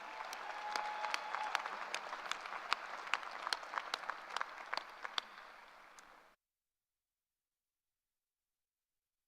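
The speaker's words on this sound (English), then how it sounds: "Let's give Jacob another round of applause." At a commencement ceremony, an audience applauds with steady, moderately distant clapping for about six seconds before it cuts off to silence.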